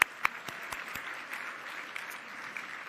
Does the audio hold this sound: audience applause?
yes